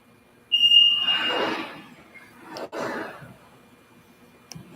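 A sublimation heat press gives a short high electronic beep when it finishes pressing, followed by a person's breathy sighs and soft handling noises, heard close in a quiet room.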